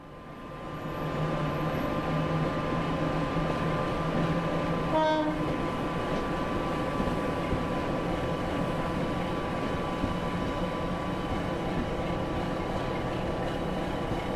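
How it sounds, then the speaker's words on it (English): A Class 47 diesel locomotive idles at a distance in a snowy train simulator on the West Coast Main Line, a steady low droning rumble with a faint tonal whine and one brief horn-like tone early on. "So that idling 47's over there somewhere, and you can hear it all the way over here."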